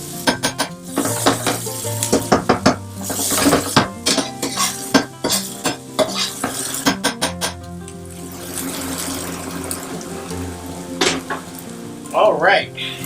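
Sichuan peppercorns, chilies and garlic fry hard in oil in a pan for fish-fragrant eggplant, giving a loud, continuous sizzle broken by rapid clattering utensil strikes, then a quieter, steady frying hiss.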